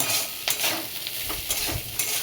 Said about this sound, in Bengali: ভালো করে নাড়াচাড়া করে ভাজা ভাজা করতে হবে আমাকে